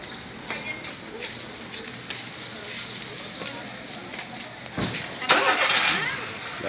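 A car engine starts up and pulls away on a town avenue street, the rising engine noise building near the end amid steady outdoor street ambience with birds.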